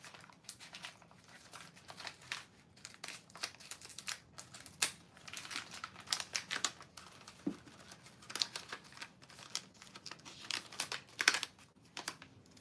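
Guitar string packaging is crinkled and torn open by hand without scissors, giving a run of irregular close rustles, crackles and tearing bursts with no talk.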